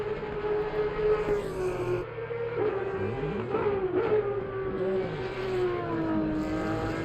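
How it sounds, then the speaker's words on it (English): A GT3 race car engine in Assetto Corsa Competizione on the Nürburgring GP circuit, a steady, buzzing, tonal engine note whose pitch climbs and dips through gear changes and corners, with no talking. "I could listen to that car sound all day"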